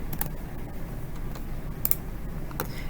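Computer keyboard typing during web time entry, a short run of light, sparse key ticks over a low steady hum, fairly close and quiet with no talk.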